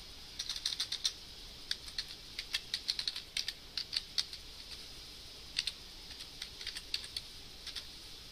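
Close, crisp tapping of keys on a computer keyboard in irregular bursts of quick keystrokes with short pauses, over a quiet room hum and with no talking.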